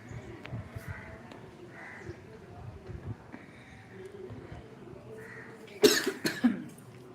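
A person with a bothersome cough gives a few sharp, close coughs near the end, after quieter stretches of faint household noise and muffled voices.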